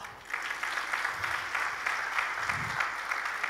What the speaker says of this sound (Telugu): మీరందరూ చప్పట్లు కొట్టాలా